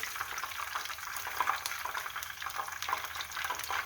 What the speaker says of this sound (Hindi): और सारी फ़िश को हमने इसी तरह से फ्राई कर लेना है।